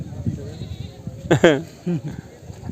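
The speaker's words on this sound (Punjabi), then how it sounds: "ਤੈਨੂੰ ਪਤਾ ਗੱਬਣਾ ਬੱਕਰੀਆਂ ਮਿਲ ਜਾਂਦੀਆਂ" Goats bleat at a crowded goat market, one loud wavering bleat standing out with a shorter call after it, while people talk in the background throughout.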